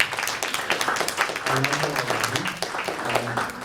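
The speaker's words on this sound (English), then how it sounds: "I hope you all will join me in a round of applause for your president, Melissa Joy, because she is amazing." A student government senate audience gives a round of applause, with dense clapping running throughout, while talk and voices carry over it in the middle of the stretch.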